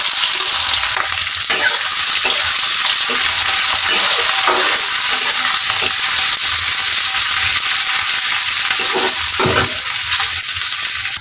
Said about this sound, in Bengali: আর এইবার কেটে রাখা পেঁয়াজগুলো এর মধ্যে দিয়ে দিলাম।